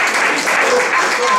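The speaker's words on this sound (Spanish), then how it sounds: "Le voy a poner palmas al Señor" A church congregation claps hands together for the Lord in a dense, steady burst of applause that fills the whole moment without a break.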